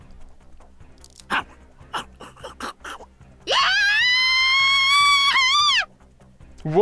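Dog Sashimi in a visual novel game gives a few short, sharp barks, then lets out one long, loud, drawn-out wailing whine that holds steady before breaking off.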